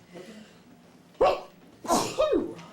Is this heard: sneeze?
yes